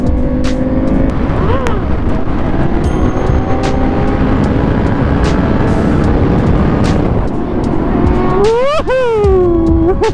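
A motorcycle pulling a wheelie at a night bikers' meet: a loud, close engine roars steadily, then revs sharply rise and fall near the end, with other engine noise underneath.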